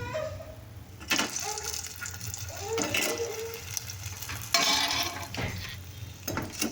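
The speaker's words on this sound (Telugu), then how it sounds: "ఈ పానకంలో ఇలా ములిగే వరకు అయితే కొంచెం కలుపుకోవాలండి" Freshly fried sweets are stirred in hot jaggery syrup in a pan, giving wet sloshing and scraping with a soft sizzle, moderately close, in uneven strokes.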